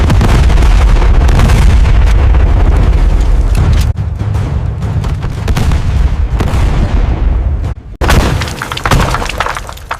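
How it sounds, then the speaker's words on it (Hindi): Cannon fire booms in a battle at Jhansi as British forces attack, with loud, continuous roaring blasts and crashing debris that break off briefly twice before surging again. "तोपों की गर्जना से आकाश कांप उठा।"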